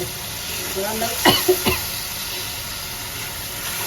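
Spice masala sautés in a pan for a baim (eel) fish curry: a steady frying sizzle with a few sharp scrapes of stirring near the middle, close and moderately loud.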